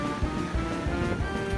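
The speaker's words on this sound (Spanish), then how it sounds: "Ahora han crecido las olas." Ocean waves breaking on a shore, loud rolling surf with repeated low crashes over a constant wash of water, close by and with no talk.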